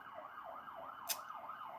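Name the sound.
police siren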